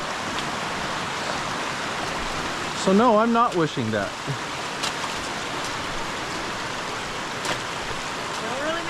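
A creek in Ferguson Canyon flows with a steady broadband rush that runs through the whole stretch, while a voice talks briefly over it near the middle.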